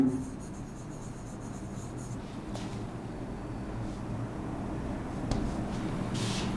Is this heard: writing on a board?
yes